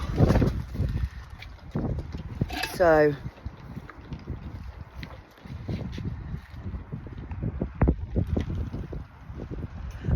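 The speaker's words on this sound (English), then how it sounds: "It's very windy." Gusty winter wind buffets the microphone outdoors at an allotment, a steady rumbling roar with a brief voice partway through.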